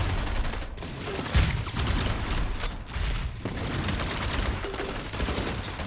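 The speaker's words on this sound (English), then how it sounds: "Wow, these are some big gunfights coming out right here." Rapid gunfire from a FragPunk shooter match, with dense overlapping bursts and automatic fire rattling continuously, punctuated by a few heavier thuds and impacts.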